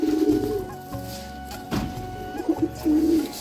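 Madras pigeons coo at close range, a pair of soft, low rolling calls separated by a brief pause with some fluttery handling noise between them.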